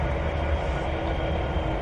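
A train rumbles along in the simulator game Trainz 2019, a continuous heavy low rolling drone at steady loudness with no talk over it.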